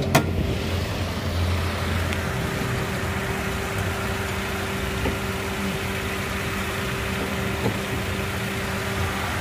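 A 2014 Toyota Rush TRD with a manual gearbox idles in an open engine bay, giving a steady, quiet, smooth hum that holds even for the whole stretch with no talking.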